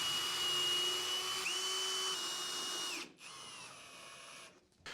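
A power drill whirs steadily at close range, its high motor whine holding pitch, dipping briefly as it stops, then resuming at lower load before cutting off.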